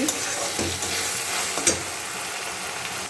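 Tadka cooks in white oil and a little ghee, giving a dense, continuous hiss of frying close by, with a few faint clinks of a utensil against the pan and no voices.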